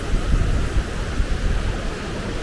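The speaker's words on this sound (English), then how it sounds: "there's a small cascade of waterfalls going alongside here" Small cascade of waterfalls on the River Etive in the Scottish Highlands near Glencoe, a steady, close, broadband roar of rushing water with a heavy low rumble and no voices.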